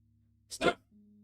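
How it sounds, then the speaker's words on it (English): A dog barks once in the video game Her Trees, a short, close, fairly loud bark standing alone over a low steady game hum. "Told you he was gonna bark."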